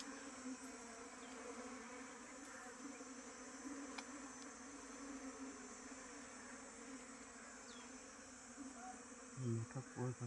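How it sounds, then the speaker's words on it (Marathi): Bees buzz steadily at a honeycomb hidden inside a tree trunk in a village, a dense continuous insect hum with a few thumps and handling knocks near the end. "मोठा पोळ बघा आहे रे."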